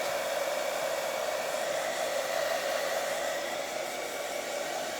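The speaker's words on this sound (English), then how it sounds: "So with your hairdryer, again," A hairdryer blows steadily on a gel printing plate, a loud, close, continuous whirring rush of air that holds the same level throughout, with no voices.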